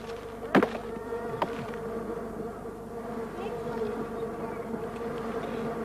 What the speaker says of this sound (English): That's the bee there.